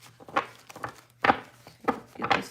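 Several quick riffling bursts of cards being shuffled, each a short rustling flutter separated by brief pauses, close by.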